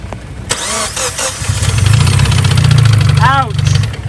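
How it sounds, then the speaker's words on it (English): Car engine cranking and firing up with a bad engine knock, a loud rough running rattle that swells and holds for a few seconds, with people talking and exclaiming over it. "That sounds like a really bad knock."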